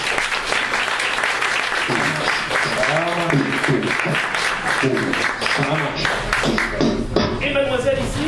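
Applause from an audience at a French-language live event, steady clapping running under a voice talking over it almost throughout.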